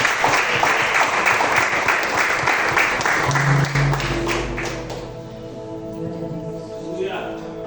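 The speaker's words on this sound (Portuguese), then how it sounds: "Vamos receber o grupo de louvor com uma salva de palmas para o Senhor." Church congregation applauding during a Portuguese-language praise and worship service, a loud, dense wash of clapping that fades after about five seconds, while music notes and faint voices carry on beneath.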